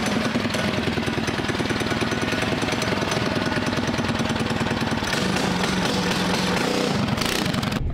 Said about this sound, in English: So as soon as we do that, we wanna go full throttle.